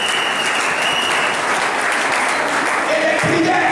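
Church congregation applauding, a dense continuous wash of clapping from many hands that stays loud and even throughout, with a voice briefly audible near the end.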